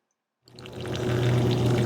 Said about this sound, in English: So that is running a little too much, and that was a very small hole.